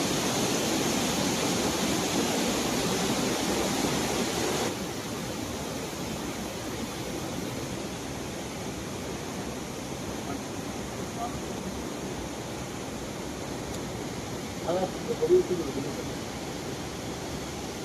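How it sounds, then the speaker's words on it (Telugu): Steady broadband rush of a rain-swollen stream near a waterfall, flowing constant and fairly loud throughout, with a brief cluster of small splashes or clicks near the end. "అందమైన పచ్చదనంతో కూడిన ప్రకృతి దృశ్యాల మధ్య సాగుతున్న నీటి ప్రవాహం"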